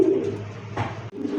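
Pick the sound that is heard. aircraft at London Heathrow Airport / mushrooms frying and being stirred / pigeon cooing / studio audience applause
pigeon cooing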